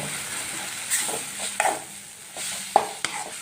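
Chicken fries with fenugreek leaves, a soft steady sizzle with occasional sharp scrapes and clinks of a spoon stirring in the pan, fairly quiet and without talking.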